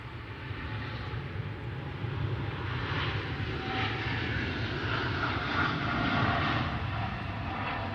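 A Qatar Airways Boeing 777 departs Manchester Airport for Doha, its engines a steady, broad jet roar at middle distance that holds evenly throughout with no voices.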